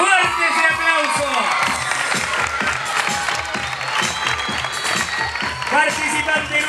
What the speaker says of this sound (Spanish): ¡Fuerte ese aplauso!